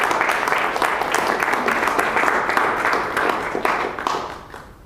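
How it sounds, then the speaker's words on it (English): An audience at a Toastmasters public speaking meeting applauds, with dense, steady clapping that continues throughout and fades slightly toward the end. "In your applause, Yona Russo."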